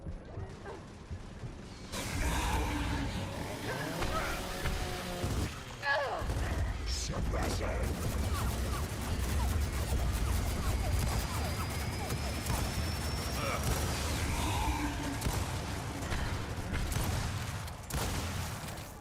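Gunfire and combat from the video game Gears of War 4, with loud, dense bursts of shots, mechanical clatter and crashes running almost continuously, and a player talking over it.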